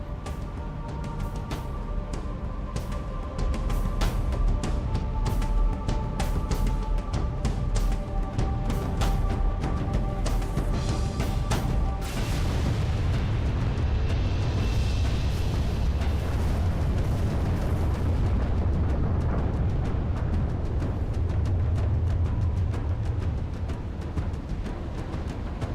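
A towering spire structure in Halo 3 collapses in a long, rumbling blast, a loud sustained roar of explosions and crumbling debris with deep booms and a fading tail.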